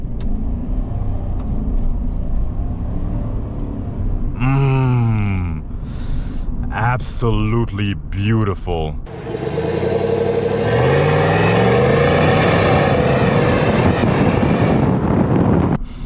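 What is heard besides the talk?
2025 Chevy Silverado truck light exhaust rev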